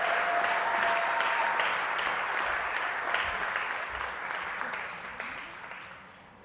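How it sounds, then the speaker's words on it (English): A ceremony audience claps steadily for a second-place award winner, sustained and even, gradually thinning and fading toward the end with no talk over it. "please applaud the second place winner"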